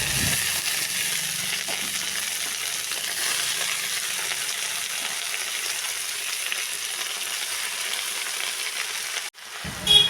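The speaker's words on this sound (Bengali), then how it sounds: "ওই তেলেই দেব কেটে রাখা পুঁই শাকগুলো" Chopped Malabar spinach frying in hot oil gives a steady, loud, close hiss and crackle that runs almost without pause, then drops out abruptly near the end with a brief clatter; no one speaks.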